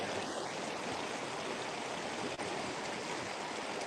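Rapids on the upper James River in Richmond, Virginia rush in a loud, unbroken roar of white water, steady throughout with no voices.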